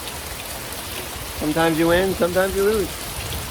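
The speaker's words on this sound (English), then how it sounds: "Nice gentle little rain." Gentle, light rain falls steadily outside a house as a soft, even hiss throughout, while someone talks over it in the middle.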